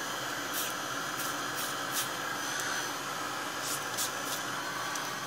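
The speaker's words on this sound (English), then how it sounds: "Marta, you're so brave with your spraying" Aerosol spray paint hisses in steady continuous bursts over artwork, with short sharper puffs standing out above a constant broadband hiss; no one speaks.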